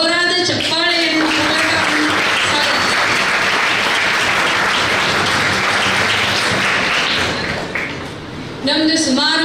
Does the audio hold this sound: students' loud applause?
yes